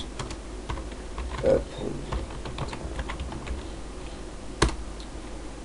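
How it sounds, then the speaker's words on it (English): Someone types a Linux terminal command on a computer keyboard, a run of close, quiet, irregular key clicks with a couple of louder taps and a brief spoken word. "you're going to need to type in sudo apt get install nautilus"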